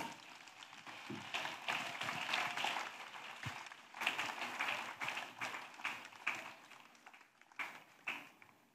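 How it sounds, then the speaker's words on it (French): A congregation applauds during a French-speaking church ministry gathering, with dense, sustained clapping that swells in waves and keeps going for the whole stretch, moderately loud with a roomy crowd feel. "Oui, acclamons. Clap."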